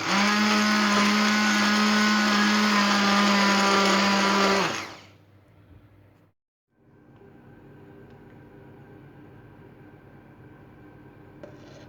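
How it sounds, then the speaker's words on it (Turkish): Electric mixer beating a cooled supangle chocolate pudding dessert, a loud, steady whine that runs for about five seconds, stops abruptly, and gives way to quiet room noise. "bir mikser ya da bir çırpıcı sayesine ezebilirsiniz."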